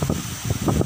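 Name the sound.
heavy rain and strong wind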